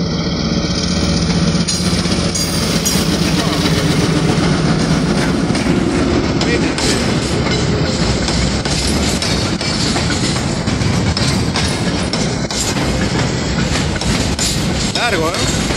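A Trenes Argentina Carga freight locomotive and its long string of wagons roll past the Marconi level crossing, loud and close, with a continuous rumble and rhythmic clickety-clack of wheels sustained throughout.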